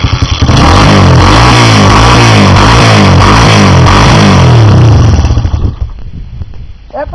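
A dirt bike engine runs loud and close while warming up on choke, with a steady rough clattering idle that stays strong for several seconds, then drops off and fades toward the end.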